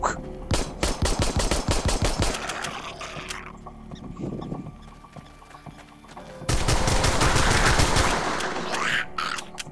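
Rapid bursts of gunfire from the VR video game Arizona Sunshine, dense rattling strings of shots, a quieter pause, then another long loud volley, with no talking over it.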